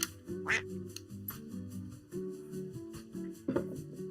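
Duck quacks from a sound effect in a livestream chat, a run of short nasal honks in quick bursts with brief pauses, fairly quiet and without any talking.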